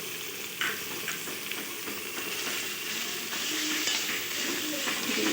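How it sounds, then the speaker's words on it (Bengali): Liver sautéed with spices in mutton oil, stirred steadily in a pan, giving a continuous close sizzle and frying hiss with light scraping strokes throughout, no voices. "মেটের সাথে মশলাটা কষিয়ে নেব"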